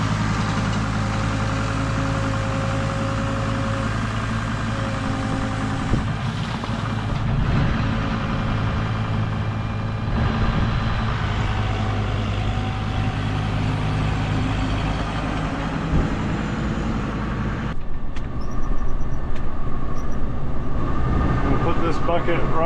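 A Kubota tractor engine runs steadily alongside an air conditioner, giving a constant loud droning hum with a low mechanical rumble throughout, a few brief knocks and shifts breaking the even tone.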